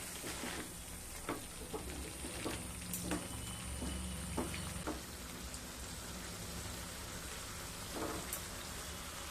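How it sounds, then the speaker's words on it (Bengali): Spices for a vegetarian teasel gourd (kakrol) curry sizzling in a pan with the spice-rinsing water added, a steady wet crackle with scattered sharper pops and clicks, close and moderate in volume. "মশলাগুলোকে ভালোভাবে আবারও কষিয়ে নেব"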